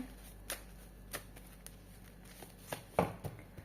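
Soft riffling and tarot card flicks in a quiet room, with several light snaps of cards spaced irregularly and a sharper flurry near the end.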